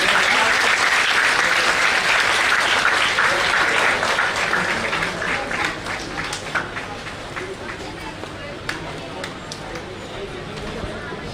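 Audience at a community talent award ceremony claps in a loud dense round that gradually thins to scattered individual claps toward the end.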